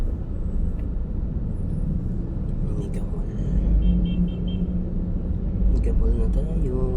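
Road traffic in front of Mega Mall in Makati during rush hour, a loud, steady rumble of engines with swelling passes and brief squeals, while someone talks over it.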